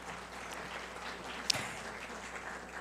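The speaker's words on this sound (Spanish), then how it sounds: "con el aplauso de todos ustedes" An audience at a judicial ceremony for the Poder Judicial del Estado de México claps softly and steadily, fairly distant, with one sharp louder clap standing out midway.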